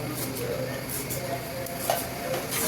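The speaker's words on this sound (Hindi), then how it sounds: "अब घी है गरम, तो अब हम इसमें डाल देंगे जीरा।" Cumin seeds drop into hot ghee for a tempering, setting off a soft, continuous sizzle and crackle with faint clinks of a pan nearby.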